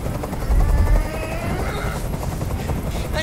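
A helicopter in the video game Detroit: Become Human, a low rotor thrum and whine with a louder swell near the start, under a steady background rumble.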